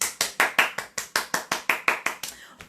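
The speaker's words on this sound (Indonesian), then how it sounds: "Tepuk tangan buat Kak Eva." Audience clapping in appreciation of Kak Eva's pregnancy testimony: a steady series of about a dozen sharp, crisp claps in even rhythm, loud and close, alone without talk.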